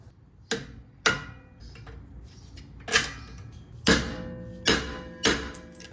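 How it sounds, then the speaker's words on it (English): Sharp metallic taps from punching out the brake pad retaining pins on a Saab 900 rear caliper: six distinct hammer strikes with uneven gaps, close and ringing. "The way I'm going to do that is to punch out these little pins and then the retaining clip here"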